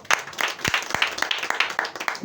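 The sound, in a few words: congregation clapping for Jesus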